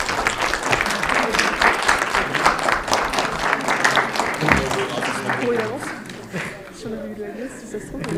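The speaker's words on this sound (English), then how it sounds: "So you won this debate. So you can applaud." Audience applause after a classroom English debate: steady, fairly loud clapping from a room of listeners that fades in the last few seconds as voices begin talking over it.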